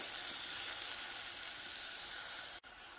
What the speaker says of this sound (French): Donc là, on verse la crème, on mélange.